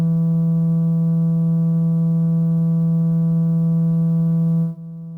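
An Atari 2600 NTSC console sounds a steady E3 note, a buzzy square-ish tone with strong even harmonics held alone at constant loudness for nearly five seconds before cutting off abruptly.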